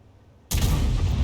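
A single heavy KV-2 tank cannon blast in a tank video game hits suddenly after near silence, a loud booming shot whose roar sustains to the end.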